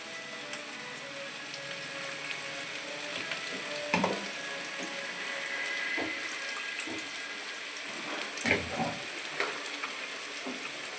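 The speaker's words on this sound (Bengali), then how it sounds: "কোপ্তা ভাজা হচ্ছে" Kofta balls fry in hot oil with a continuous, fairly soft sizzle close by, broken by a few louder clattering knocks near the middle and the end, with no voices.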